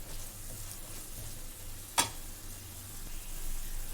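Coconut and jaggery ladoo mixture with cardamom powder frying on a low flame in a pan, a soft steady sizzle under quiet stirring scrapes, with one sharp clink of the spoon midway.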